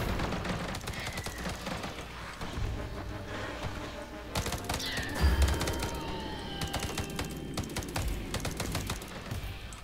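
Bursts of video game gunfire in Earthfall, rapid shots and short volleys scattered across the scene over a busy background, with a couple of brief pauses between bursts.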